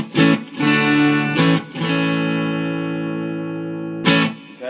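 A clean-toned electric guitar through the bridge pickup of a Japanese Strat, routed via a Boss ES-8 pedal switcher, rings out in a few struck chords, the longest sustaining and slowly fading, close and alone.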